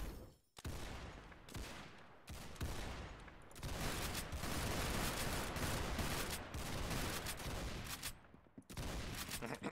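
Gunfire from a weapon in a Roblox video game, loud and dense bursts of repeated shots rattling almost continuously, broken by a few brief pauses.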